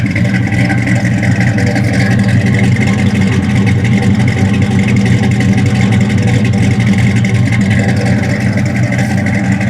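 The John Wick movie stunt Chevrolet Chevelle runs loud and close, holding a steady, throaty engine roar with slight surges throughout and no voices heard.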